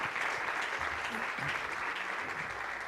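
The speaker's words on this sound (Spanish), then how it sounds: "Vamos a darle un aplauso, por favor." An audience at a conference session on hazardous waste management in Mexico applauds with a steady, dense clapping that holds for the whole moment, moderately loud, with no voices over it.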